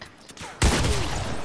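Video game gunfire erupts after a quiet moment as a sudden close burst of rapid shots that keeps going to the end.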